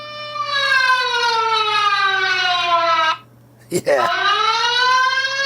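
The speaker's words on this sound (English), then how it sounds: "This warning really will blow your ears off." A loud warning alarm blares from an Oukitel RT6 rugged military-grade tablet, a harsh descending wail that cuts out briefly, then restarts after a short spoken word.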